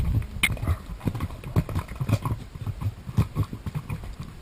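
A mare trots under a rider, her hooves clip-clopping in a steady, even rhythm, close and fairly clear.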